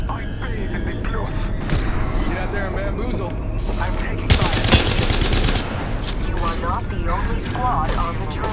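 Gunfire crackles in an Apex Legends match, a busy burst of shots over constant game noise and background music, with a sharper cluster of impacts midway; players talk over the action.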